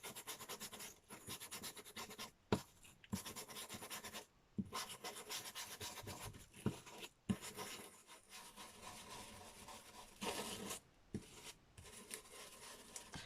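Cosmic Shimmer rust effect paint, noticeably gritty, being rubbed on with a brush, giving close, steady scratchy scrubbing strokes with brief pauses and sharper scrapes, no talking.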